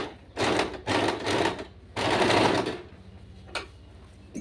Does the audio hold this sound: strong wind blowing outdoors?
no